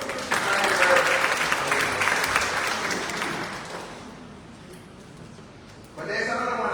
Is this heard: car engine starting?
no